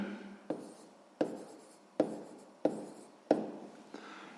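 Pen strokes on paper while a math solution is written out in a sixth-grade exercise: five or six distinct scratchy bursts in a steady rhythm, each a short scrape that fades, close and moderately quiet with no voices.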